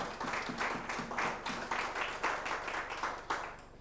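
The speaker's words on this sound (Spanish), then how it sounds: "Un aplauso para el Padre." A church congregation claps in a steady rhythmic beat, about two claps per second, close and continuous for several seconds with a low hum beneath.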